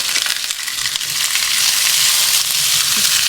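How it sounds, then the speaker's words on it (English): Potatoes and onions sear in a hot pan, giving a loud, continuous crackling sizzle that swells slightly as the food settles in the oil. "I'm finna get ready to sear these potatoes."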